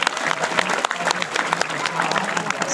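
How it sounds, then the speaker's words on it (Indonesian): An audience at a religious gathering for a high school anniversary claps together, a lively burst of many hands with distinct sharp claps rising and falling in loudness. "Tepuk tangan dulu dong."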